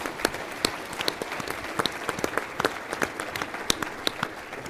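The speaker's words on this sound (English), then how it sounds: "Let's give Patty a round of applause for all of the hard work she's done on the Family Forum." An audience at an Army family forum town hall applauds steadily, a dense patter of many hands clapping at moderate volume throughout.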